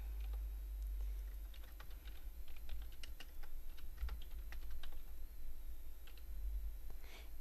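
Someone types a name on a computer keyboard, a quick irregular run of soft close key clicks over a low steady hum.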